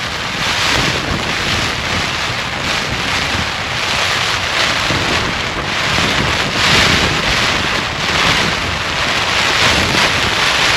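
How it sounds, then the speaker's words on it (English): Wind and rain batter a tent pitched on the Skye Trail in Scotland during a passing shower, a loud, steady roar with gusting surges and buffeting against the fabric and no voices. "it's just a rain shower has come in"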